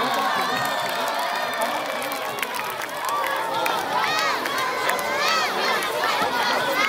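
At a school Children's Day celebration in Kargil, a crowd of children claps, shouts and cheers in a continuous noisy hubbub, with excited high voices rising and chatter mixed throughout.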